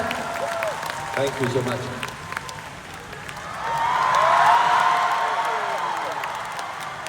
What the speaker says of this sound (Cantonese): 俾啲掌聲，何小姐